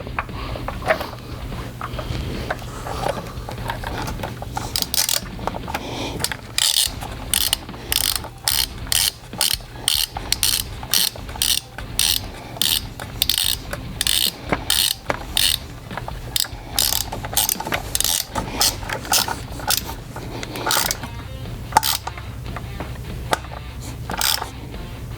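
Rapid ratchet clicking runs in bursts while screws are tightened during an E85 sensor install on a Camaro, close and sharp with short pauses between strokes.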